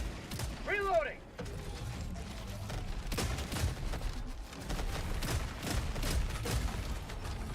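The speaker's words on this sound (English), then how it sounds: "Reloading!" Weapon reloading in the game Noobs In Combat, with clattering mechanical clicks and ratcheting under busy in-game noise, alongside a brief chirping effect near the start.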